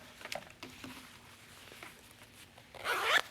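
Invisible zipper on a pair of sewn shorts is pulled closed near the end, a short close raspy zip rising in loudness after quiet handling and fabric rustle.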